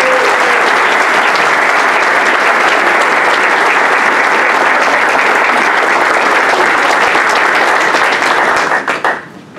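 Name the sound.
audience applause for a student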